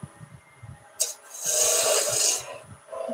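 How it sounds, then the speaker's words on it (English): A spindle gouge and skew chisel ride their bevels on spinning wood on a lathe while turning a wooden baby toy, giving a steady, close rasping hiss that swells for about a second, with no talk. "And you'll hear bevel rubbing an awful lot"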